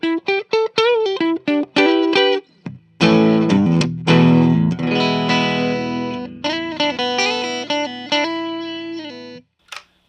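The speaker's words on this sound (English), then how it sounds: "It's not quite what I'm used to when I have a mini humbucker." Electric guitar played clean through a mini humbucker pickup on a 1992 Gibson prototype, ringing chords and picked notes with a chimy, bright tone, alone with no talking, ending in a short final strum.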